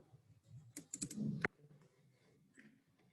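Keys on a computer keyboard are tapped in a quick burst, ending in one firmer press of the Enter key, close and quiet, followed by faint room noise.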